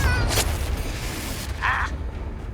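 The Confringo spell in Hogwarts Legacy bursts with two sharp blasts about a second apart over a rumbling game background.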